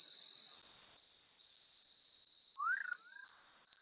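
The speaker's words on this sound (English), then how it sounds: "And then you have Jog night frog." A Jog night frog calls in a forest at night with a short, rising chirp-like note, heard once against a steady high insect drone.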